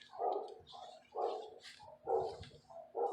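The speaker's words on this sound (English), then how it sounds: "Sorry about the dogs next door." Several dogs bark from a neighbouring yard in a quiet room, four loud bursts of barking about a second apart, clear and fairly close.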